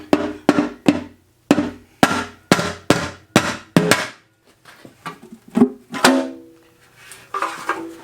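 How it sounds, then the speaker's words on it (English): A hammer taps a steel oil pan to loosen it from a K24 engine block. About eight sharp, evenly spaced metallic knocks are followed by a looser run of lighter taps, all close and with no talking. "we may just be able to tap it loose with a hammer"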